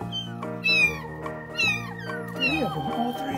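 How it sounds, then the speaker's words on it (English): Kittens found inside a house wall give a few loud, high meows, close by, with a steady background hum underneath. "Imagine opening the wall in your house to find this many kittens."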